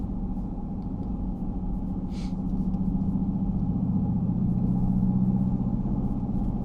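A 2021 Mercedes-Benz G63 driving through a turn, heard from inside the cabin as a steady low engine and road rumble that swells slightly midway, with a faint tick near the start.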